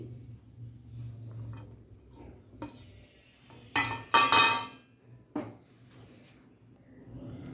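Cut raw mango pieces knocking about in a mortar and pestle, a few scattered taps and then a louder burst of hard clattering handling at close range.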